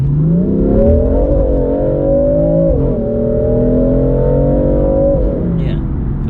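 BMW F82 M4 accelerating hard under full throttle, a loud sustained engine roar with rising revs and a brief dip near a gear change, close and continuous throughout.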